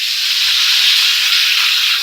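Curry leaves hit hot oil for a tempering, a loud, steady, bright sizzle and hiss holding without a break, no voices over it.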